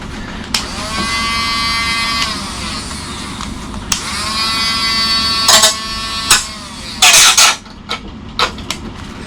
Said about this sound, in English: I bet I haven't got enough battery in my little grinder for it